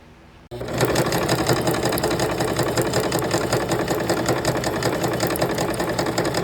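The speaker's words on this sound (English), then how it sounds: "Let's actually sew these that we've glued some pieces on" A sewing machine stitching around glued paper scraps for journal ephemera starts abruptly after a brief quiet moment, then runs in a loud, steady, rapid mechanical whir close by until the end.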